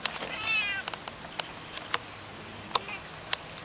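Outdoors, a cat gives one short, clear meow near the start, followed by faint scattered clicks and rustles against quiet background noise.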